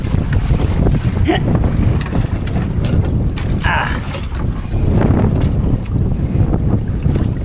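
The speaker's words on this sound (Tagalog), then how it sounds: "Hirap pag mahangin." Strong wind roars steadily across the microphone on a small fishing boat at sea, a loud continuous rumble with faint mechanical creaks and no clear talk.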